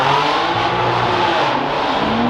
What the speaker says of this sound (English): You got to hear this car in person.